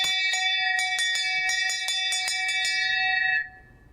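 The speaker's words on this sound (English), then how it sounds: "each time you make a sale, you have to ring the bell" A bell rung to mark a sale at a boat dealership rings about a dozen bright metallic strikes in quick, slightly uneven succession, then the last ring decays into quiet; close and loud, with no talking.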